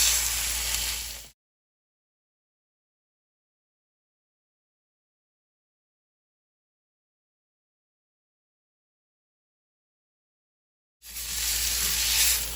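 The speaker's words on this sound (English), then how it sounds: "Now that our cast iron is beginning to smoke, I'll add a wee little bit of oil, and then let's get our steak on the heat." Japanese A5 Miyazakigyu wagyu steak sears in a smoking-hot, lightly oiled cast iron pan, producing a close, hissing sizzle in two short bursts separated by a long stretch of silence.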